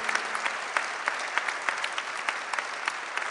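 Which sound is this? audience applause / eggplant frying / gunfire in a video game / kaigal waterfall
audience applause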